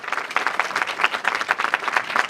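A town hall meeting audience on a rainy evening breaks into steady, dense applause, many hands clapping together close by for a couple of seconds.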